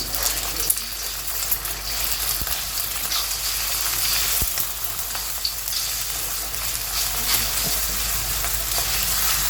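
Beaten egg sizzles and crackles steadily in hot refined oil while it is stirred and scrambled for egg fried rice, giving a loud, even frying hiss with small scraping clicks from the spatula and no voices.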